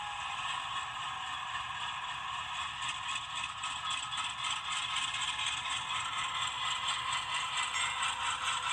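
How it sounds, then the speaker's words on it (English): A continuous high-pitched metallic brake squeal from a ScaleTrains AC4400CW HO-scale model locomotive, with layered tones over a low mechanical rattle, steady and fairly quiet, rising slightly toward the end. "Brake squeal."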